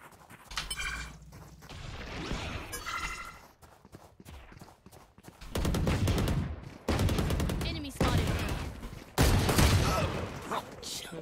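Gunfire in the online shooter Valorant comes in several bursts of rapid shots, loud and close. Gaps of quieter game sound sit between the bursts.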